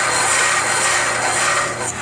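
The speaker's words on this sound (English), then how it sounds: "now he's grinding it to make it nice and smooth" Old front wheel bearing race from a Nissan 300ZX being ground smooth: a continuous loud, close, harsh abrasive rasp with a steady drone underneath, no voices.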